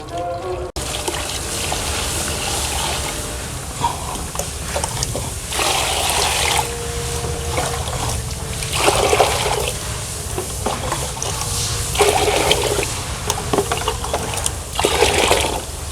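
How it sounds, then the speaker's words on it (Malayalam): Water is poured into a fish tank over broken roof-tile pieces for cooling, a steady close gushing and splashing stream that runs continuously with rising and falling bursts throughout. "അപ്പോൾ ഓടിൻ്റെ കഷ്ണങ്ങളിലേക്ക് ഇട്ട് കഴിഞ്ഞു നമുക്കിതിലേക്ക് വെള്ളം നിറച്ച് കൊടുക്കാം"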